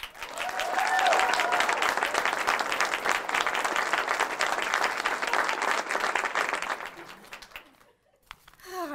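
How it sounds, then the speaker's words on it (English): An audience at a quilt debut gathering breaks into loud, sustained applause that lasts several seconds, then tapers off and stops near the end. "Please give her applause."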